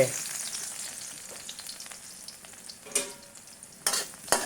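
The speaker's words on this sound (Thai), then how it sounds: "พัดให้กระเทียมหอม" Garlic, two whole heads, stir-fried in a hot pan for pork meatballs with mild chili, giving a continuous crackling sizzle with a few sharp scraping clacks of a utensil toward the end, close and without talk.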